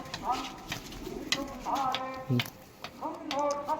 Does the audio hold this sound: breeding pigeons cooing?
yes